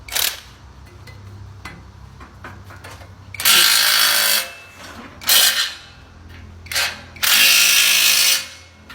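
Power drill driving screws while installing an egg laying diesel block machine: several loud, close whirring bursts of a second or so each, separated by quieter clicks and handling noise in a workshop.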